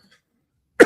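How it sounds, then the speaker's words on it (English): A single short, sharp cough close to the microphone after near silence. "I'm sorry I keep coughing in front of you guys"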